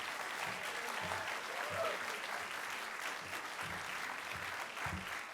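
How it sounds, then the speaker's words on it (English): Audience applause at a live storytelling show about science, a steady wash of many hands clapping at moderate distance, with a few low thumps and murmurs scattered beneath. "Give Joanne a round of applause."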